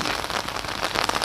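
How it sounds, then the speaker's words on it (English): Steady, dense rain patters loudly on an umbrella close overhead, a continuous crackling hiss with no talk, outdoors in Nottingham. "you may be able to hear the rain coming down on my umbrella"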